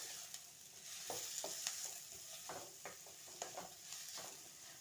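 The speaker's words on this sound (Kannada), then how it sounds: "ಜೀರಿಗೆ ಮತ್ತು ಪಲಾವ್ ಮಸಾಲ, ಈರುಳ್ಳಿ ಹಾಕಿ ಫ್ರೈ ಮಾಡ್ಕೊಳ್ಳೋಣ." Onions frying with cumin and pulao masala in hot oil for palak rice, a steady close sizzle broken by repeated scraping stirs of a spatula against the pan, with no voices.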